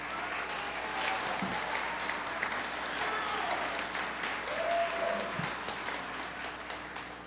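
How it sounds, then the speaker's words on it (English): An indoor audience gives a round of applause, a steady, moderately distant patter of many hands clapping that runs the full seven seconds at an even level. "Give him a round of applause."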